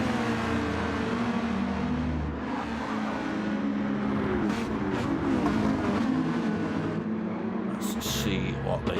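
Race cars roar down the Interlagos straight in a racing broadcast, a loud continuous engine drone with rising and falling revs as cars run close together in the slipstream, with a commentator speaking over it.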